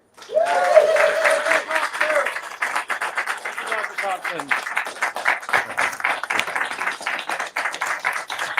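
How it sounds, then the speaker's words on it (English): Audience at a genital-autonomy news conference applauding after a physician's speech, with a steady, dense round of clapping that carries throughout and a short vocal cheer near the start. "Another round of applause for Dr. Thompson, please."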